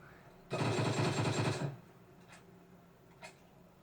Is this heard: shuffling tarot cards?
no